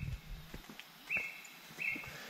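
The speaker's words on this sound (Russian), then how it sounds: "Вокруг никого. Только кукушка." A cuckoo calls somewhere in a quiet Bali forest, two faint distant notes set apart by about a second, with soft footsteps and rustling nearby.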